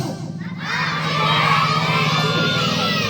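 A crowd of children at a seventh birthday party shouts loudly together in one sustained, rising group yell that fills the room, with faint adult voices at the start.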